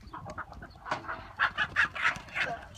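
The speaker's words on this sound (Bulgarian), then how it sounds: "Митре, не мога фане това, не мога фане Петела." A rooster clucks and squawks in a rapid series of loud, close bursts while being chased, with the calls growing more agitated toward the end.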